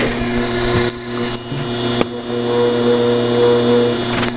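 Lathe spinning a straightened steel shaft and wheel, a steady close mechanical whir with a constant motor hum and faint ticking, continuous from start to finish.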